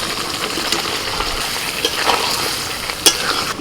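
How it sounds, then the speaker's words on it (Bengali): Steady sizzling of fried potatoes being stirred into spices in hot oil, with scraping in a pan and a sharp metallic clink near the end. "এবার ভাজা আলু দিয়ে দিচ্ছি"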